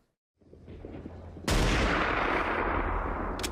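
Gunfire from the Saving Private Ryan bell tower sniper scene breaks out as a sharp, loud crack that leaves a sustained, roaring wash of battle noise, with a quieter rumble before it.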